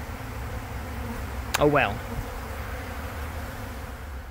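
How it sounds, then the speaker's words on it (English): A swarm of honeybees flies around during a hive removal from a condemned house, making a steady buzzing drone throughout. A voice speaks briefly partway through. "I probably would have vacuumed them instead of having this many flying bees"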